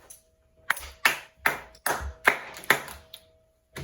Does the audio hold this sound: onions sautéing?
no